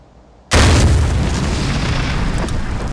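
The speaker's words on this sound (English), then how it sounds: "how do you make a device that can give you explosions for cheap war movies" A homemade explosion effect device for low-budget war movie scenes goes off abruptly after a quiet moment, a single loud, close boom that holds as a broad roaring rush rather than fading quickly.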